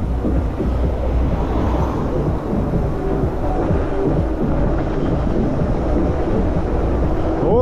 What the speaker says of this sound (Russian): Ох, ветер